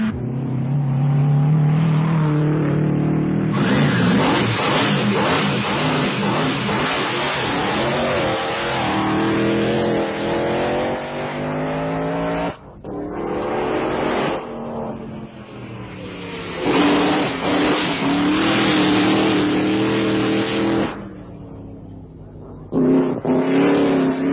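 An Alfa Romeo Alfetta racing car from the 1938–1951 era roars close by, its engine revving hard through repeated rising pulls with brief lifts between gear changes, loud and raw throughout.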